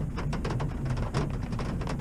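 Steady rain falling at a campsite in Shenandoah during truck camping, a dense continuous patter with irregular drop hits, fairly close and even throughout, no talk.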